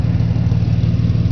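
A 1992 EB series 2 Ford Falcon engine running nearby, a loud steady low rumble with a regular pulse, heard briefly without speech.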